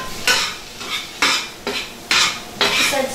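Garlic sautés in a pan while being stirred, producing close, loud scraping strokes about every half second over a soft sizzle, with no voices.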